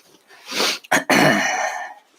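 A single sharp cough, close and loud, with a breathy rasp just before and a throaty exhale trailing after.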